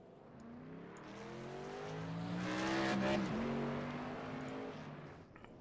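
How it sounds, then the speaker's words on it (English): Tour modified race cars rolling out for warm-ups at a bullring track, engines swelling from a distant rumble to a loud passing roar with rising revs, then fading away again. "Guys rolling out for warm ups."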